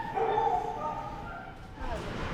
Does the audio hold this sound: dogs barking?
yes